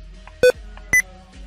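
Two short, loud electronic beeps sound as keys are pressed on a Windows 10 computer in the ease of access settings. Each tone is clear and isolated, about half a second apart, over faint background hum.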